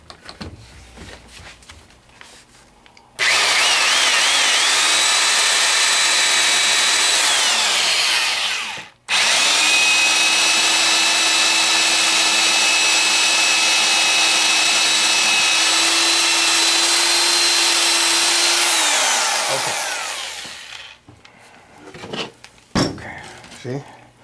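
A power drill bores into a wood panel for an arcade cabinet, a loud steady whine running about six seconds, cutting out briefly, then another longer sustained run that winds down, with quieter handling noises before and after.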